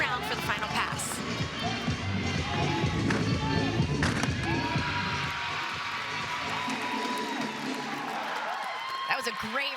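Arena crowd at a college gymnastics meet between Utah and UW cheers and claps steadily throughout, a dense continuous roar with a few sharper bursts, with faint commentary underneath.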